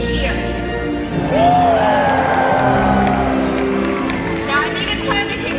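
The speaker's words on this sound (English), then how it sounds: "When he comes up and out of the water, we're going to give him a great big cheer." A large stadium audience at a killer whale show at SeaWorld Orlando cheers and whoops in a sustained roar of voices, with music playing and an announcer talking over the crowd.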